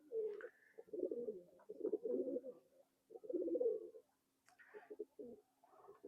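An old traditional Khulna nakhtana pigeon cooing in repeated low, throaty phrases separated by short pauses, close and clear with no talk.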